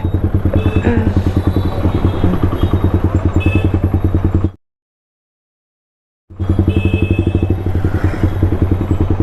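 Yamaha MT-15 motorcycle fitted with a loud exhaust silencer, revving and running close by with a steady, throbbing pulse, then cutting to silence for about two seconds before resuming.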